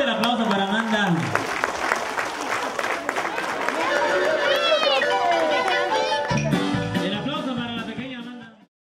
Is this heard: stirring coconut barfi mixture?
no